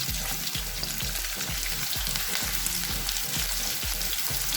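Onions and green chillies fry in oil for a pepper chicken dish, giving a steady, close, hissing sizzle with faint rhythmic scraping from stirring and no talking.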